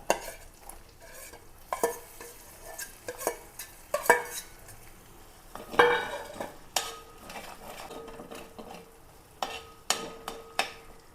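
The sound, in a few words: chopped ginger and garlic sizzling in hot oil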